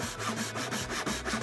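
A hand saw cuts wood for a dovetail joint in a workshop: quick, rhythmic back-and-forth rasping strokes, close and steady throughout.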